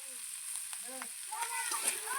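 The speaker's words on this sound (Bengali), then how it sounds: "অল্প অল্প করে চাউমিন দিয়ে নেড়ে নেওয়া হচ্ছে।" Chow mein stirred and fried in a small wok, a steady sizzle with scraping stir strokes throughout, close and moderately loud with no talking.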